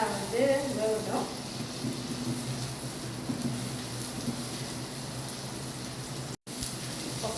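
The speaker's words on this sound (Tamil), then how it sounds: "ஓகே, தக்காளி பழம் நல்லா வேகட்டும்." Tomatoes frying in a pan for a fish curry give a steady, even sizzle with a soft hiss throughout, broken only by a brief dropout near the end.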